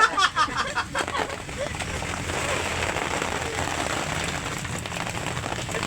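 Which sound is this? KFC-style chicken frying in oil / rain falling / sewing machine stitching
rain falling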